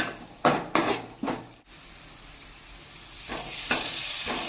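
Dried fish (karuvadu) being sautéed in a pan: a few sharp metal clanks of a utensil against the pan, then a steady hissing sizzle that swells toward the end, no voices.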